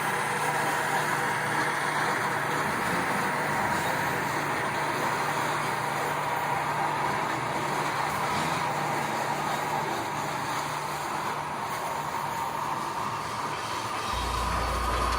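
An HO scale model coal train moves slowly out of a yard with helper locomotives pushing at the rear. The result is a steady, continuous rumble and hum with no pauses and no voices.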